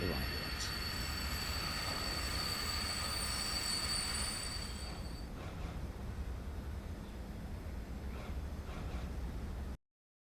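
A tram pulls in with its wheels squealing in long, high metallic whines over a steady rolling rumble that eases off before the sound stops abruptly. Faint talk can be heard in the background.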